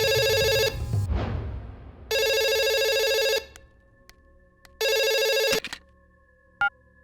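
An electronic telephone ringtone rings in three loud bursts separated by pauses, with a brief clatter and faint background noise between rings.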